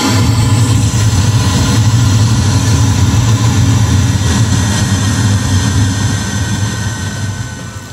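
FM radio static from a SonicGear BT 6500 home theater system: a loud, dense, steady rushing hiss that holds for several seconds and eases slightly at the end, with no talking.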